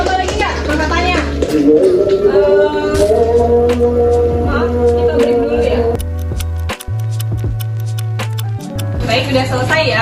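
A mosque call to prayer carries over a youth reproductive-health outreach session, a sustained melodic chanted voice with steady hum, while people in the room talk over it.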